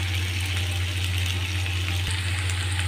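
Onions seasoned with salt fry in a pan with a constant hissing sizzle, heard close over a steady low electrical hum, with no voices.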